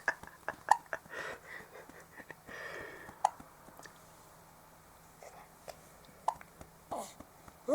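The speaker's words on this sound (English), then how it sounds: "our little boy's got the hiccups" A baby boy hiccups softly, with a few faint, brief catches spaced irregularly over quiet room tone and some light breathing.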